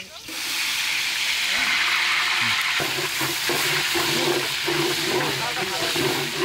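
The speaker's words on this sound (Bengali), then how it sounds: "তেল গরম হয়ে গেছে, পেঁয়াজটা দিয়ে দিলাম।" Onion sizzles loudly in hot oil in a saucepan for chicken kabsa biryani, a constant close crackling hiss with stirring, while a person talks underneath.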